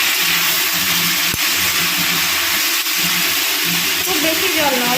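Papaya masala hisses and sizzles loudly and steadily in a hot pan after water goes in, with a single scrape of stirring, and a voice faintly breaks in at the end.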